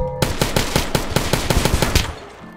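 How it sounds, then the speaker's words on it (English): Rapid automatic AR rifle fire in the Roblox video game, a loud close burst of about fifteen evenly spaced shots lasting two seconds before stopping abruptly. "Damn, this gun's stronger than the Hulk."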